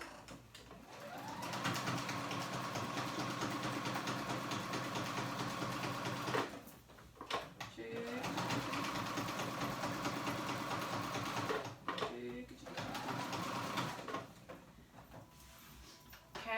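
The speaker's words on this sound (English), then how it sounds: "I'm going to sew it on with a little bit of a stretch" An electric sewing machine runs a zigzag stitch on board shorts, humming steadily in three long stretches separated by short pauses, close and fairly loud with no talking.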